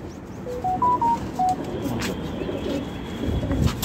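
A Gander Shokdom pigeon at a pigeon tournament in Kolkata gives a short series of soft coos near the start, followed by broadband outdoor noise and a few clatters.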